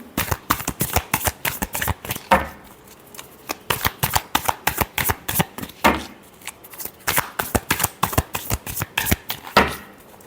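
Tarot cards are shuffled by hand in quick riffling bursts, crisp rapid flutters repeating in several rounds with short pauses between them, close and clear with no talking.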